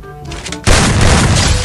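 Loud gunshot in a mobile shooting game, a sharp blast at about two-thirds of a second followed by a sustained booming roar, heard after quieter game noise.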